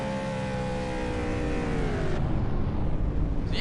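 Race car engines drone and whine on a superspeedway in a racing video game, several cars overlapping with pitch sweeping downward as they pass, steady and loud without voices.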